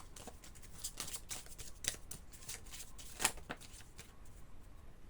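Oracle cards being drawn and handled, with light papery slides and shuffling flicks at an irregular rhythm, close and quiet, in a still room.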